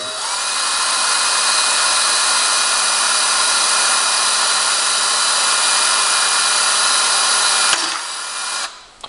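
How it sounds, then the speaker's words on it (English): A power drill whirs steadily at high speed for several seconds, close and loud, then stops abruptly and winds down. "then run the drill through it"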